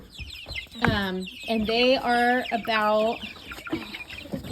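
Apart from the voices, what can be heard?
Cornish cross meat chicks clucking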